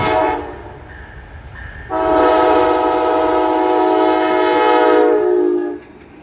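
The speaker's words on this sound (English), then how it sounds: "This eastbound Amtrak Wolverine wasn't in a hurry, just slowly rolling through Porter." An eastbound Amtrak Wolverine passenger train rolls slowly past in Porter, Indiana, with a long, steady horn blast layered over the rumble, fading out near the end.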